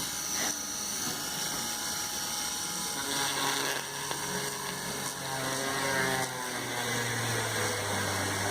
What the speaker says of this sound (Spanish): podemos comenzar el proceso del taladrado.